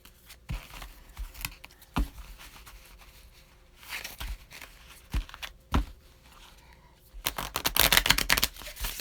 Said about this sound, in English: And 3 riffle shuffles